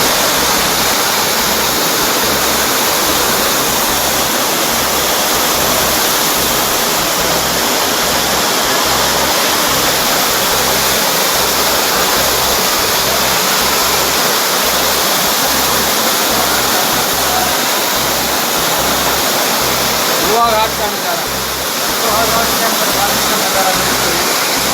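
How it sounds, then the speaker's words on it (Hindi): Floodwater rushes through town streets into homes and shops, a loud, steady broadband roar of flowing water that carries on unbroken, with faint voices underneath. "पानी सड़कों से बहता हुआ लोगों के घरों व दुकानों में जा घुसा"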